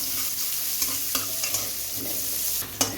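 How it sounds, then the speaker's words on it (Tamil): Chopped onions with salt sautéing in oil, a steady close hissing sizzle with several spatula stirs and scrapes against the pan, no voices. "உப்பு கொஞ்சம் போட்டோம்னா சீக்கிரம் வதங்கிடும்"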